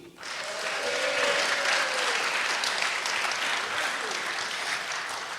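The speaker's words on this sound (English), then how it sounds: "This round of applause is for Dave Bidini." A museum audience bursts into dense, sustained clapping for a Canadian author, the sound rising quickly and staying full and even before easing slightly, with faint voices mixed into the crowd.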